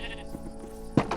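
Sheep bleating on a small farm, a faint murmur early on followed by a single louder, close bleat near the end with a brief second cry.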